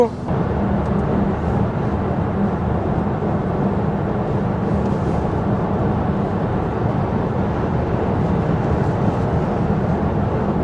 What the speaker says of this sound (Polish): teraz sobie wyjechaliśmy na autostradę, więc sprawdzimy sobie głośność w tym samochodzie i sprawdzimy sobie pomiar natężenia dźwięku przy 140.